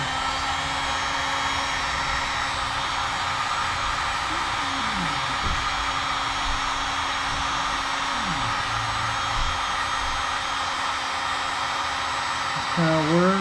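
Steady, loud whooshing roar of a heat gun warming a vinyl decal on a headlight, running continuously with a faint tonal hum, a few soft voice-like sounds underneath.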